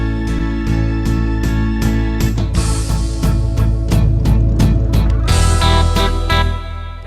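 Guitar picking out the second ending of a song, a steady run of plucked notes ringing close and clear with sustained harmonics, played alone without talk.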